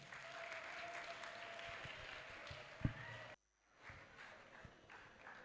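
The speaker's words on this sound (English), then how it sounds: "another round of applause for them." An audience at a live-streamed counseling event applauds. The clapping is faint and steady, then cuts out abruptly partway through before a soft return of scattered sound.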